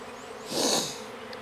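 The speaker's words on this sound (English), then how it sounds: "There's a lot of bees in here." A swarm of honey bees around a hive box gives off a steady insect buzz that swells briefly and loudly up close, then settles back to a constant hum.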